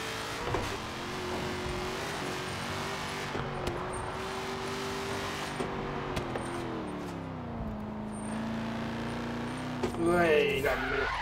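Car engine racing in Forza Horizon 3, a steady droning engine note that holds and slowly drops in pitch, with a brief rougher surge near the end and voices faintly under it.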